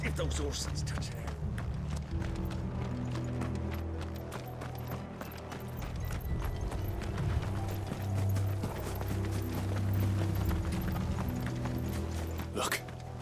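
Horses gallop in Final Fantasy XVI, a steady run of hoof clip-clops with mechanical rattling, close and continuous with a louder stretch near the end while voices talk over it.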